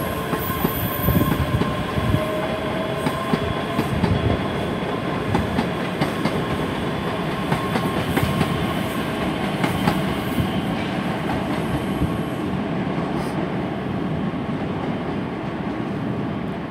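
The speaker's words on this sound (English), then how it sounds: "departing out now is the 14:30 service to Edinburgh Waverley via Falkirk High" ScotRail Class 385 electric trains pulling out of Glasgow Queen Street station, bound for Edinburgh Waverley via Falkirk High. A loud, continuous rumble with rhythmic wheel clicks carries on throughout, with faint high squeals near the start.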